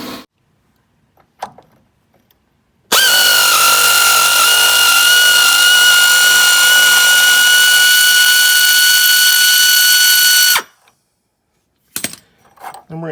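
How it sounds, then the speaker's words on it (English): A pneumatic air wrench runs one long continuous whine for about eight seconds, undoing 16 mm bolts on OEM rock sliders of a 2011 Jeep Wrangler, loud and close, with faint clanks of hardware before and after. "So I'm going to take them off with the air wrench."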